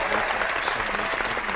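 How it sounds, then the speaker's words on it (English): An audience claps in steady, continuous applause, a dense even wash of hand claps held for a short stretch with no voices standing out. "I got to give you a great big Dr. Glidden round of applause here"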